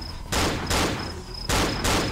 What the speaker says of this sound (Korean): 사이먼 총소리 난다